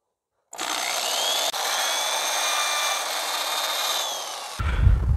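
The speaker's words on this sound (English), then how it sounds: "we're going to drill the holes where we're going to be putting the rope" A power drill whirs steadily for several seconds while drilling rope holes in a hanging planter, its pitch drifting slightly as it bores through, then cuts off into a low rumble.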